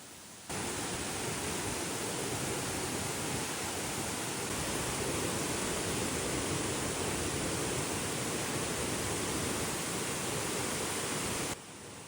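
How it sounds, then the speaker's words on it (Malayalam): A waterfall near a resort in Kanthallur, Kerala, roars with a dense, unbroken rush of water. It is loud and constant from start to finish, heard close by with no talking. "ഞാനിത് വെള്ളച്ചാട്ടത്തിൻ്റെ അരികിൽ നിൽക്കുകയാണ്"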